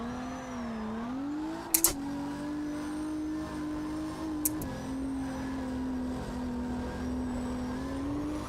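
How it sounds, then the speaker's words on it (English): A race car engine holds a steady, droning note, then a couple of sharp clicks and quick downshifts make the pitch drop and settle, with the motor humming on at close range. "Man, that downshift speed is just immaculate."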